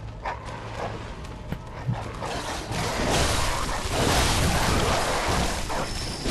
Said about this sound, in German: Okay, viele Hunde.